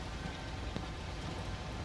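Rain patters steadily in the Train Sim Pro train simulator game, a dense continuous hiss with a single sharper drop tap, even and close, with no talking.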